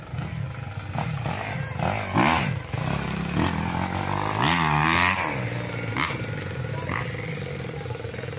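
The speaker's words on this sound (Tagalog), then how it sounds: "dinig na dinig dito ang andar ng mga motor mga kapraps. Yun yung mga nagmo-motocross." Motocross motorcycles ride around a roadside farm lot in Nagcarlan, Laguna, their engines revving and rising and falling in pitch at moderate distance, a continuous droning snarl with repeated throttle swells.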